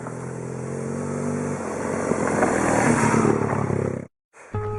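A 2010 BMW R1200GS with its flat-twin engine runs loud and close, a steady throaty roar that builds slightly before cutting off abruptly, then briefly resumes after a short gap.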